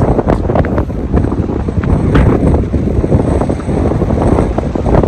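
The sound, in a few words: strong wind buffeting microphone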